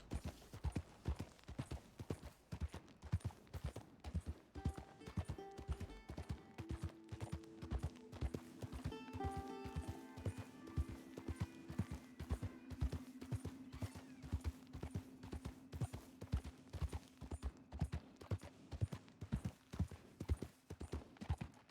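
Horse hooves clip-clopping at a steady riding gait in Red Dead Redemption 2, an even, regular rhythm of soft thuds running throughout, with brief musical tones in the background.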